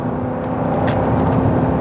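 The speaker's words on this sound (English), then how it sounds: "Hopefully you heard my 8-cylinder engine in this Crown Victoria." A steady, loud V8 engine of a Ford Crown Victoria drones throughout, a low rumbling roar with constant road noise, as if heard from inside the vehicle.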